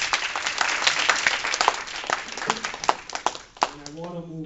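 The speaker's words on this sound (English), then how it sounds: "I want a big round of applause" Audience applause at a candidates forum, a dense wash of clapping that swells and flickers for a few seconds, with a voice rising over it near the end as the clapping fades.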